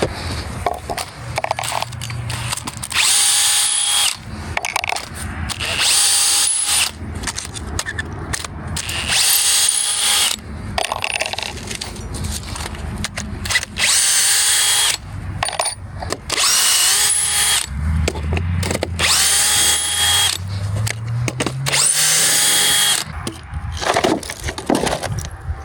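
A power drill spins screws out of wood outdoors on a cold morning, whirring in repeated loud bursts with short pauses and ratcheting clicks between runs, close up and alone without talk.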